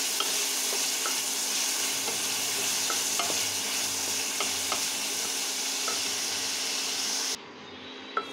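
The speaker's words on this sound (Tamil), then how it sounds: "இப்போ தக்காளி நல்லா வதங்கிருச்சு" Salted tomatoes frying in a pan for egg macaroni, a steady close hiss and sizzle with faint intermittent stirring taps that cuts off abruptly near the end, with no speaking.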